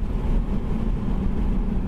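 A four-cylinder Toyota Hilux 4x4 engine drones steadily while driving, a loud, continuous low rumble with road noise inside the cab and no voices.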